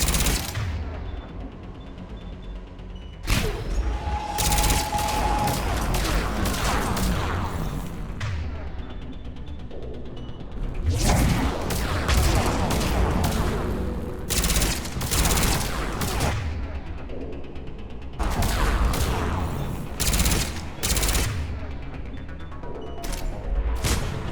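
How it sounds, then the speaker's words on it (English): Heavy weapons fire in Mass Effect 3 as Reaper harvesters attack Turian forces, loud repeated bursts of gunfire and blasts coming in clusters with short lulls between them. "Harvesters firing on the Turians!"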